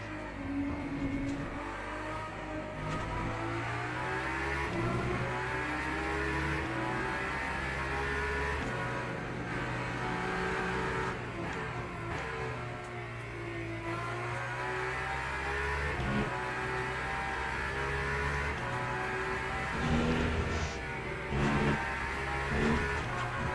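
GT race cars battle in the Le Mans Ultimate racing game at night, engines droning and revving in layered, overlapping tones as the pack is passed, a continuous loud roar with shifting pitch.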